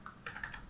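Programming code being typed on a computer keyboard, a few quiet, quick key clicks in an irregular run, close and alone.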